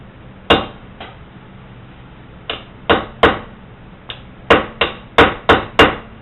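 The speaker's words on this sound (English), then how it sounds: "just take a punch like that, go through the holes on the end of the bolt." A punch driven through the bolt holes on a 1989 Corvette rear wheel bearing is struck with a hammer, giving about a dozen sharp metallic blows in irregular pairs and bursts, close and fairly loud, with no talking.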